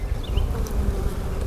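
Honeybees buzzing around an opened Layens hive during an inspection of an overwintered colony, a steady close drone with a few individual bees whining past.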